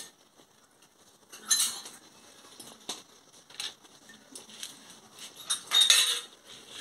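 A spoon gently mixes a village-style fish curry in a metal pot, giving quiet scattered clinks and scrapes in short bursts against near silence.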